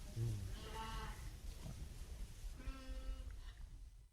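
Ewes bleat inside a sheepfold, two clear harmonic calls near the start and again near the end over a steady low barn rumble, moderately close.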